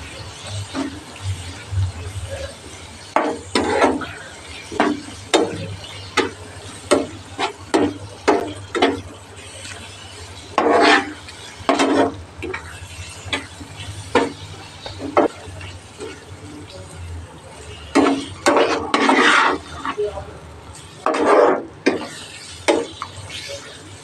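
A spoon stirs coriander powder into tomato gojju in a pan on a slow flame, making repeated scraping and swishing strokes in an irregular rhythm over a low simmering background, with no talk.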